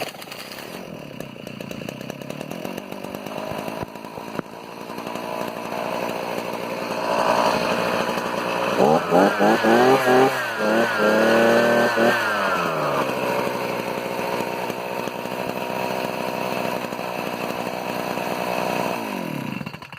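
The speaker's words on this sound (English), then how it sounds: "And so choke on, and I just hold the throttle wide open until it starts." A Harbor Freight gas earth auger engine starts with choke on and throttle wide open, then roars loudly and steadily, rising in pitch midway with a brief surge before settling back to a sustained drone.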